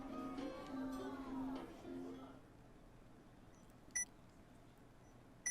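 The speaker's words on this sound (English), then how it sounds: "And now we hear beeping" Short electronic beeps in the game 428: Shibuya Scramble, two sharp high blips spaced well apart, following a stretch of talking at the start.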